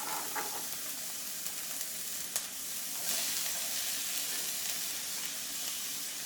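Onions sizzle and fry in olive oil in a stainless steel pan over medium heat, a steady close hiss and crackle with a few sharper pops and stirring clinks throughout.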